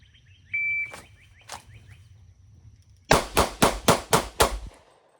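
A Glock 27 pistol in .40 S&W fires a rapid Bill Drill string of six loud, sharp, evenly spaced shots, preceded by a beep and a couple of fainter bangs from nearby firing.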